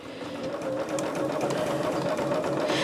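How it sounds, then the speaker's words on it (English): A sewing machine stitches quilt binding at a 3/8 inch seam, a steady close mechanical whir with a constant hum and rapid needle rhythm running throughout without pause. "I machine sew my binding. And I do it at 3/8 inch all the way around."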